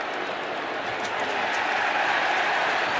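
A sellout crowd of more than 81,000 at a Notre Dame versus Clemson college football game makes a steady, broad roar that stays even throughout.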